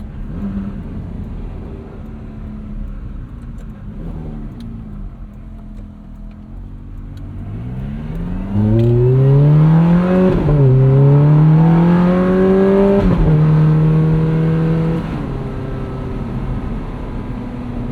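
A 2008 Ferrari F430 Spider with a V8 engine revs hard toward 8500 RPM while driving, its pitch climbing through rising sweeps to a loud scream, dropping at shifts, then settling into a steadier cruise.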